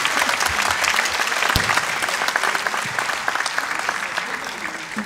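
Audience applause for guest performer Hikmet Tosun coming on stage at a Turkish show, a dense, steady clapping from a sizable crowd sustained for the whole stretch.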